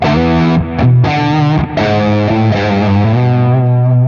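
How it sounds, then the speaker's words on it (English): Electric guitar played straight into a Lone Star amp with echo and loop, no pedals, in a small studio: a loud, sustained distorted tone with rich harmonics and brief pauses between notes, ringing out alone. "That's just the tone of the Lone Star itself with the echo and the loop."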